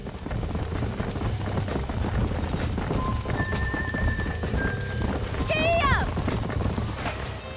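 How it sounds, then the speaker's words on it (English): Horse hooves clip-clopping in the video game Red Dead Redemption, a steady busy patter of several hooves under continuous ambient noise, with a brief whinny-like tone and a voice heard along the way. "These are fine horses."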